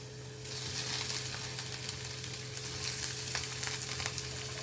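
Onion, green chili, curry leaves and garlic fry in a pan for a Maldivian tuna curry, giving a steady close sizzle with light crackles and a continuous low hum underneath, no talking.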